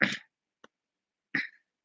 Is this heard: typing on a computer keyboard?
no